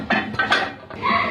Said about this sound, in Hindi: इस पर ढकना रख के।